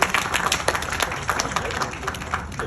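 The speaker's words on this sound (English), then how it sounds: "Let's give a big round of applause," An audience at a product presentation claps briefly, a short burst of scattered hand clapping of moderate loudness.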